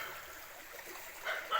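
Steady rushing flow of water in a canal below a hillside, a continuous hiss growing slightly louder toward the end, with a faint distant dog bark mixed in.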